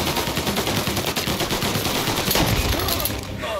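Rapid, dense gunfire from Mafia: Definitive Edition fills the whole stretch, a continuous loud roar of overlapping shots, close and unbroken to the end.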